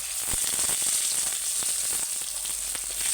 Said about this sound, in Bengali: এবার তেলটা আমার তেতে গেছে খুব তেলটা একটু নাবিয়ে আমি ওতে পেঁয়াজ আর টমেটো দিয়ে দেবো